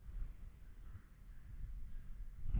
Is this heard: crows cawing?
yes